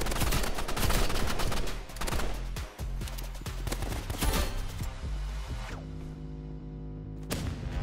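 Dense, rapid gunfire from the Roblox Rivals shooter game rattles nonstop for several seconds, loud and close, with sharp crashing shots, then thins out as sustained musical tones take over before one last burst.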